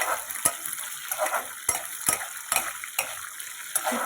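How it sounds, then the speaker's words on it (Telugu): Cashew nuts sizzle in hot oil in a pan while mango pulihora is made, a soft frying hiss broken by sharp clinks of a spoon stirring against the metal pan every half second or so. "ఇప్పుడు దీన్ని బాగా ఫ్రై చేసుకోవాలి"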